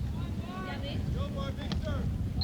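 Strong wind buffets the microphone in a steady roar at a beach volleyball match by the sea, continuous and loud throughout, with faint voices and whistling tones riding above it.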